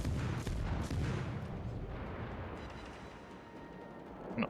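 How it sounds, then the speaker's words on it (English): A warship's gun salvo in the naval battle game World of Warships, a heavy booming blast with a long rumbling decay, loud and broad. "Not quite finishing them off with that salvo."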